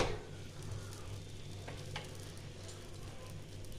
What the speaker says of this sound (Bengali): একইভাবে আমি এইটাও ভেজে নেব।